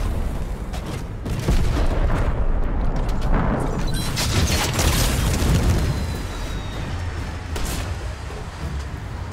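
Anvil rocket launcher explosions in the video game Fortnite, a steady roar of booming blasts and rumble, continuous and loud with no talk.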